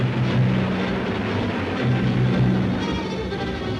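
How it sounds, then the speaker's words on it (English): Vintage 1956 newsreel recording of British bomber warplanes flying overhead, a steady droning propeller-engine roar with a low pulsing hum that holds throughout, fairly loud and unbroken with no talk. "Britain's warplanes are winging their way to Egypt, and its bombers attack 5 key cities"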